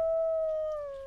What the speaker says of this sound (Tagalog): nakakarinig na siya ng mga pag-alulong ng aso sa kalayuan